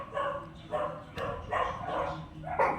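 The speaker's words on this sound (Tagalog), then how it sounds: "Grabe ang ingay ng mga aso namin oh" Several dogs bark in irregular bursts, repeated yips and woofs overlapping at moderate distance.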